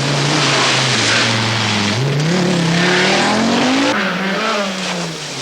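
A 350-horsepower Toyota rally car roars past at Sutton Park during the 1983 RAC Rally, its engine revving up and down through gear changes, loud and close, with tires squealing.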